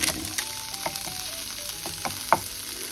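Saury frying in a small frying pan, a quiet close sizzle dotted with scattered pops and spatters, no voices.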